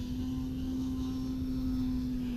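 A faint, steady electric whine from an E-Flite Timber X radio-controlled airplane making a low pass, holding one even tone throughout at a distance with no voices.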